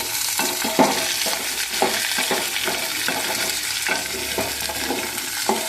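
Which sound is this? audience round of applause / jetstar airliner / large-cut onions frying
large-cut onions frying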